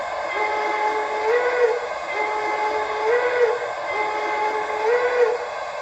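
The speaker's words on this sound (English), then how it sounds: "F3 is a long whistle." A long train whistle sounds repeatedly in rising, wavering blasts over a continuous mechanical hiss and rumble from an Aristocraft C-16 model steam locomotive with a Zimo MX696 sound decoder, close and fairly loud, with no talking.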